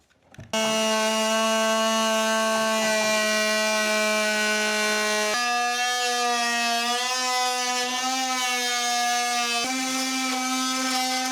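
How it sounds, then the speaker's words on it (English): Oscillating multi-tool fitted with a hardwood blade cutting through hardwood during an old-house renovation, a loud, close, steady high-pitched buzzing whine that shifts pitch slightly as the blade bites, running continuously for several seconds. "I'm just going to come through the hardwood blade with the Renovator, the multi-tool, and just cut the rest of the way through."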